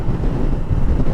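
Strong wind beside a railway line on an open stretch of road buffets the microphone with a loud, low, continuous rumble that never lets up.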